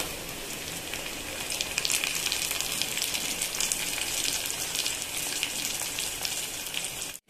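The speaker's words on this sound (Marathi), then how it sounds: "बघा, कांदा छान असा फ्राय होतोय." Chopped onion sizzling in hot oil while a Marathi-style urad dal amti is cooked, a steady, dense crackle and hiss holding evenly close up for several seconds before cutting off abruptly.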